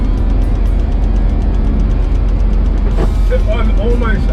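London taxi driving at full throttle on a motorway in the rain, a loud steady low engine and road drone with wet road noise, and a voice speaking briefly near the end.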